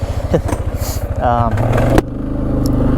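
A 1996 Polaris Sportsman 500 ATV engine runs close by with a throbbing, pulsing idle that rises into a short rev, then settles back to a steady beat, with a voice speaking briefly over it.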